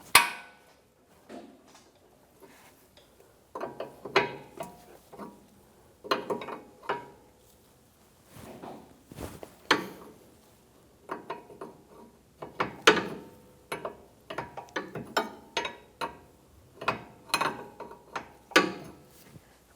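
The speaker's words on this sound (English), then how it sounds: "Using a 24mm wrench, loosen the jam nut on the tie rod." A wrench working the tie rod jam nut on a Honda Accord, sharp metallic clicks and knocks in irregular bursts, close and fairly quiet, with no voices.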